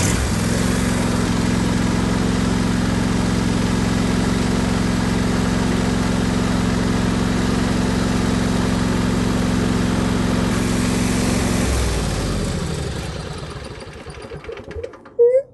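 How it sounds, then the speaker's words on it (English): A riding mower tractor engine idles with a steady, loud hum for about eleven seconds, then winds down and stops, leaving a few faint clunks at the end. "start the tractor."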